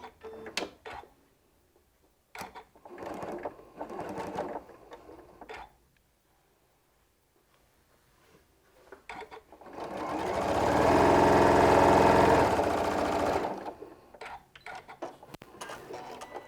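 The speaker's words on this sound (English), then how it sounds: "So we're just going to take it over to the machine and just get that stitched down." Sewing machine running steadily for a few seconds as it stitches down the overhanging edge of fabric for a survivor template set, preceded by soft handling taps and rustles, close and fairly loud.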